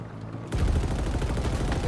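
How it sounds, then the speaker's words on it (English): Rapid automatic gunfire from the mounted gun on a Warthog vehicle in Halo, starting abruptly after a quiet moment and hammering on as a dense, loud, continuous burst. "This guy actually can shoot the fucking gun out of the warthog"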